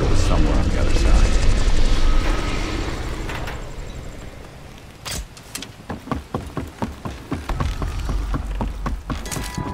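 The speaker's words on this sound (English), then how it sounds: "Roger that, chopper inbound." Military helicopter in the Call of Duty Black Ops Cold War campaign, a loud steady rotor and engine drone for the first few seconds, then fading under a run of sharp gunfire-like impacts and game effects.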